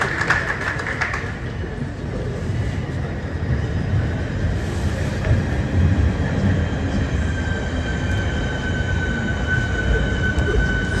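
A Network SouthEast liveried train, unit 465908, stands at a platform during a naming ceremony at London Charing Cross; a steady rumble with a faint high whine carries on throughout, with no clear talk.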